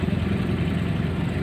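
A tractor engine idles steadily, a dense low rumble with an even chug that holds throughout at close range, no speech over it.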